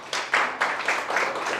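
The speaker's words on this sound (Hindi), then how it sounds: "ताली बजाओ उस बात पे." An audience claps for a civil-services exam topper at a classroom gathering: a burst of dense, fairly loud applause that keeps going in uneven waves for about a second and a half.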